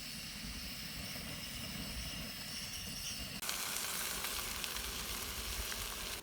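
Freshly caught trout frying on a camp stove during a backpacking trip, a continuous hissing sizzle that turns louder and brighter partway through, heard up close with no talking.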